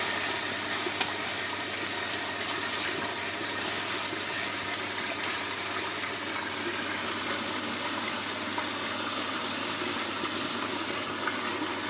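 Water pours steadily into a washing machine drum, a constant rushing hiss holding at a moderate level throughout with no pauses.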